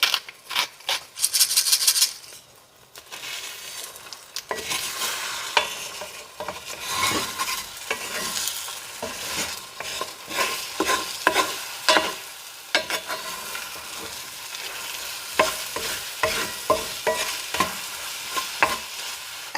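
Eggs and potato cook in a cast iron skillet, a steady sizzle broken by repeated scraping and stirring strokes, close and fairly loud, with no voices.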